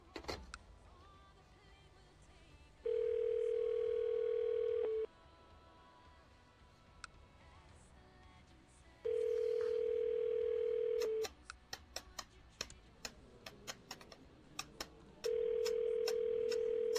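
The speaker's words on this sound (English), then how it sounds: "Little dialing music." Video game phone-dialing music plays as repeated steady electronic tones in three separate bursts, separated by quiet gaps and scattered short clicks and beeps.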